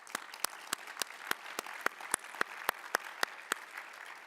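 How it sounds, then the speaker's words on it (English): Sparse audience applause at a members' business meeting, about a dozen separate sharp claps spaced fairly evenly over a low room hiss, fairly quiet and with no one speaking. "maybe a round of applause for all of them"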